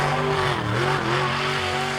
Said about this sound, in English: It's a very awkward car to drive with the big bucket tyres and a Chevrolet 350 series engine developing between 700 and 900 brake horsepower.